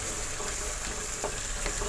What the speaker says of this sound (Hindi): ये देखें, ये हमारा मसाला भुन रहा है,